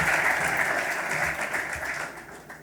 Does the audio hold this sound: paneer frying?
no